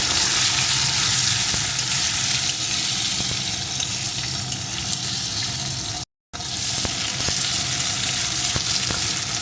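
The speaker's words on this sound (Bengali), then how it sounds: "আলুর টুকরোগুলো যেটা আমি জল থেকে সেকে তুলে রেখেছিলাম একটু ভেজে নেব" Boiled potato pieces fry in a pan of oil for a vegetarian potato curry, giving a loud, steady, close sizzle that continues throughout with only a brief dropout. No talking.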